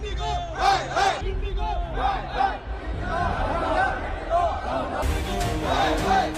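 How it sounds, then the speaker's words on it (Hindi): Angry crowd of airline passengers chants and shouts slogans against IndiGo inside an airport, loud rhythmic collective voices with chatter throughout. "इंडिगो के खिलाफ देश गुस्से में है, नारेबाजी हो रही है।"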